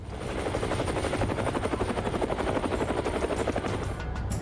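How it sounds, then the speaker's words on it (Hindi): A Chinese Z-8 military helicopter flies close by during naval exercises, its rotor chopping in a fast, steady, loud beat over a heavy engine drone, with no speech. "इसके साथ Z8 हेलीकॉप्टर भी है।"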